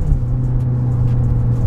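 A SEAT Leon Cupra 300 engine growls loud and close as it pulls away, a steady low rumble with slight rising revs.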